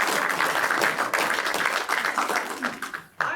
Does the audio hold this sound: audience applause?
yes